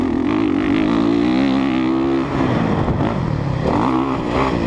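A 2017 Honda CRF 450 dirt bike ridden on a race track, its engine droning loudly with wavering pitch as it revs up and down between throttle changes, close to the microphone.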